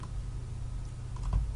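Computer keyboard keys pressed while entering a spreadsheet formula, a brief run of soft, close taps over a low steady background hum.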